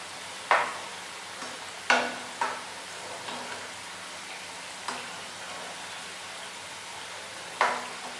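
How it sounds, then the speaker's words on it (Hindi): Modak dumplings fry over a low gas flame in a steady soft sizzle, and a few sharp scrapes and taps break through as they are turned one at a time in the pan. "तो इस तरह से मोदक थोड़ा थोड़ा पलट देते हैं, हल्के हल्के ब्राउन कर लेते हैं।"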